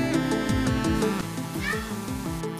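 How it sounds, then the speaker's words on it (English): A domestic cat meows several times in quick succession close by, loud and clear, while fish is being smoked. "Oh, there's my cat. Meow. Meow."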